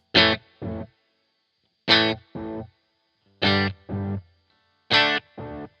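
An electric guitar through a Hungry Robot Pedals Kármán Line delay set to a longer delay time plays four pairs of short notes, each pair a plucked note followed by a quieter delayed repeat, with pauses between.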